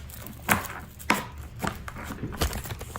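A knife chopping and mincing garlic on a cutting board gives a few sharp, irregular chops close by, spaced out over a few seconds, with no talking.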